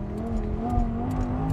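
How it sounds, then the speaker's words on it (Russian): Lamborghini Huracan exhaust under acceleration, a loud steady engine drone with a rising tone, close and continuous with no talk over it. "внимание на выхлоп."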